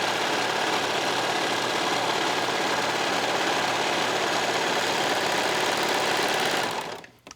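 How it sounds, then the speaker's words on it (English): A serger sewing machine runs steadily while serging a fabric side seam, its fast rhythmic stitching loud and close, then it slows to a stop near the end. "And again, serge the other side."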